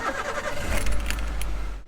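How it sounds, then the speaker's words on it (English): A car engine cranks and catches, settling into a steady low idle while keys jangle close by. "Now we start the engine to not drain the battery."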